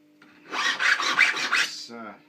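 A hand file works the top of a handmade wedding ring held against a bench peg: about five quick, close rasping strokes in a steady rhythm, followed by a short pause and a softer final scrape.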